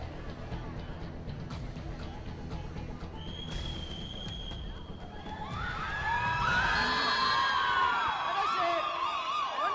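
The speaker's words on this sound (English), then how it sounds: "you can hear the loud cheer for Sectivel there." A distant kabaddi match crowd murmurs, then rises into loud cheering and whistling that swells and holds near the end.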